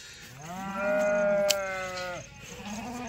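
A single sheep in the flock lets out one long, wavering bleat, loud and close, rising and holding for over a second before breaking off against quiet background shuffling.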